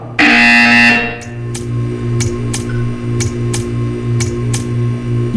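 A loud electronic buzzer sounds once in the Portal 2 video game, a harsh tone of about a second, followed by a string of sharp regular ticks over a low steady hum.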